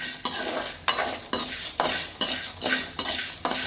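Spices for idli podi being stirred and dry-roasted in a pan, with a spoon scraping the metal in a steady rhythm of about nine strokes, close and clear, with no talking.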